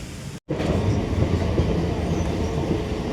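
A train rolls along the platform at Howrah station, a loud, steady low rumble of wheels and cars that holds after a brief break near the start.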